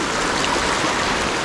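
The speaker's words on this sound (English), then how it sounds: "The creek is coming from up there, it's coming down here, it's coming around" Creek water flows steadily over stones outdoors, a constant close rushing burble with no pauses and no voices.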